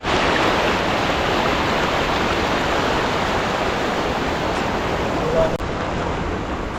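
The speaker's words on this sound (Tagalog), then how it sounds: "Malakas ng agos talaga, sobrang lakas niyan." Strong water current rushing through an open dam, a loud, steady broadband roar that continues without a break for the whole stretch.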